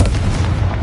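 A single deep rumbling blast from the Confringo blasting spell in Hogwarts Legacy, a short loud explosion with heavy low-end boom and no voices.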